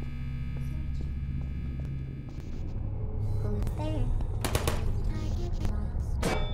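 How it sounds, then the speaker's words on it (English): Rapid bursts of turret gunfire in Portal, loud and continuous over a steady game hum, firing in clustered volleys toward the player while someone talks throughout. "Oh, stop shooting at me."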